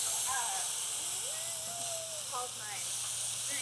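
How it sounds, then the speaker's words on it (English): Salted hanger steak searing on a hot griddle, a steady close sizzle and hiss throughout, with faint thin whistling tones above it. "let's see what kind of sear we're looking at on these"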